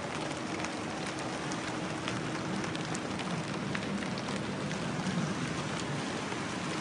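Steady rain pours down in an even, continuous hiss with no breaks, heard alone without any voices.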